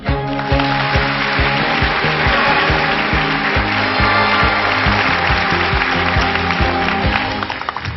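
A studio audience at a televised lecture show applauds in a loud, sustained burst lasting several seconds, fading slightly at the end.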